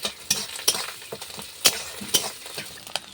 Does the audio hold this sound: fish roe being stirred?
yes